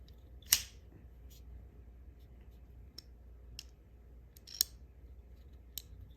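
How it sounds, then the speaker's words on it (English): Sharp, close clicks come from the push-button lock of an Orion Scorpio EDC folding knife, about half a dozen crisp snaps spaced irregularly over a quiet background. "You can also use the button lock here, the push button."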